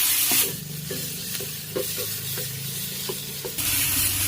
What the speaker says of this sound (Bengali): আবার আমি ভালো করে নাড়াচাড়া করে নিচ্ছি।